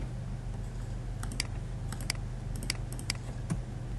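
Keys clatter on a computer keyboard as an IF formula is entered in Microsoft Excel, irregular bursts of clicks over a steady low hum, close and fairly quiet, with no voices.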